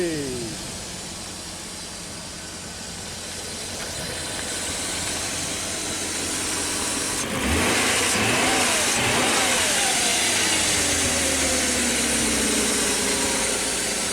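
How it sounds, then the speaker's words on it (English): A 1995 BMW 540i E34 cranks on a spare starter, then the engine catches and runs loud and close. A steady hiss and a rising rev follow, with no voices. "I was testing the starter, the spare starter that was in the vehicle"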